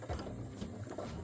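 A sewing machine back-stitches along a pleated skirt hem in a short, close, steady mechanical whir lasting about a second.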